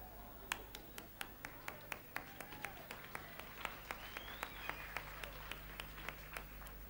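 Sparse, rhythmic clapping from an audience at an Icelandic secondary-school song contest, sharp separate claps about three per second, faint over a low steady hum.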